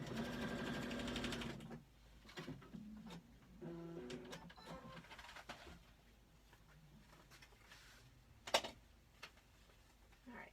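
A sewing machine stitches a quilt block in a short burst of rapid, even stitching at the start, followed by quieter intermittent clicks, taps and handling sounds of fabric being adjusted, close but soft overall.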